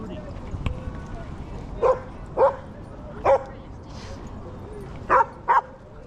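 A poodle barks in a busy park, five short sharp yaps spread across a few seconds, fairly close over a steady bed of outdoor ambience and distant chatter.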